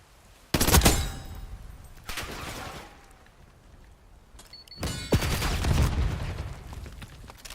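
Gunfire from an online video game shooter, two loud bursts of rapid shots, one at the start and a longer one near the end, with quieter shots between.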